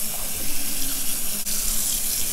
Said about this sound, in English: cold water going in.